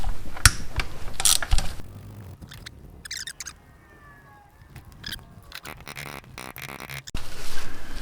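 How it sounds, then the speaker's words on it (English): Wrenching out the two cam chain tensioner bolts on a 1984 Honda Shadow 500 engine gives close metallic clicks and ratcheting, irregular bursts with quieter gaps, loudest near the start and end. "I'm going to be removing these two bolts that hold the cam chain tensioner."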